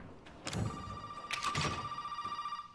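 An old-fashioned telephone rings in the horror game Resident Evil 7, a shrill metallic bell sounding in two quick bursts with a rattling tail, close and loud against a quiet room.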